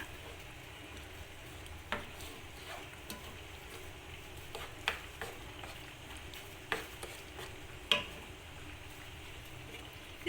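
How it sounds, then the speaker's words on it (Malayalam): Cooked sago mixed with melted jaggery syrup is stirred in a pan, a soft bubbling simmer broken by occasional light clicks and scrapes of a spoon. "ഇത് നമുക്കൊന്ന് ഇളക്കി കൊടുക്കാം"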